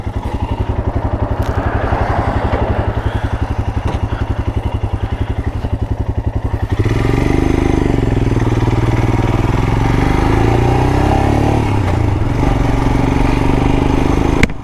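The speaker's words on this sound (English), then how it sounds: "It's got a nice little thumpy note to it. So let's get on and get going." A Royal Enfield Scram motorcycle's thumpy single-cylinder engine idles with a steady close pulse, then revs up and pulls away, holding a loud, sustained drone as it rides off.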